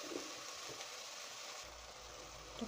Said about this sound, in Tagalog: And then, gonna add now the soy sauce.